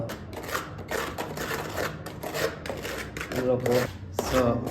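Fast-drying wall paint filler being mixed by hand, heard as close, continuous scraping and rubbing strokes in an uneven rhythm that grow louder toward the end.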